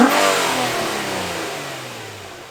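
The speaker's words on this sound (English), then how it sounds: "so the revs, they sound decent" An Infiniti G35 engine with a Z1 Motorsport aftermarket intake revs up sharply, then the pitch and volume slowly wind down as it settles back toward idle, close by.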